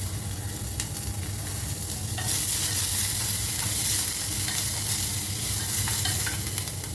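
Curry leaves, chana dal, cashews, green chili and ginger frying and being stirred in a pan for curd rice, a steady close sizzle that swells slightly partway through, with no talking.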